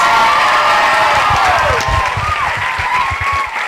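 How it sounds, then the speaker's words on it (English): Audience applause and cheering at a cultural event in a hall: dense, loud, continuous clapping with whoops and shouts, while a voice speaks over it throughout. "Let's give a big round of applause."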